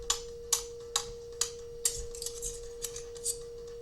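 Light, clicky plastic clacks from decorative plastic swords hitting each other repeat at a steady pace, thin and hollow-sounding, over a faint constant hum.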